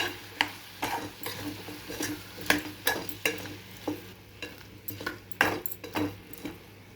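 A spoon stirs a spiced curry of broad beans and potatoes with chili powder and salt in a pan, giving repeated scraping strokes over a soft sizzle, with no talking.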